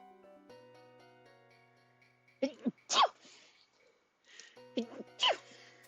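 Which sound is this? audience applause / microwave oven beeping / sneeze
sneeze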